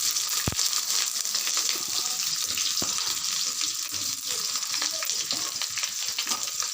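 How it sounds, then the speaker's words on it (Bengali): Washed potatoes frying in a pan for a Bengali soybean curry, a steady loud sizzle with bright hiss running throughout, broken by a couple of sharp clicks from stirring. "আলুগুলো একটু ভাজবো"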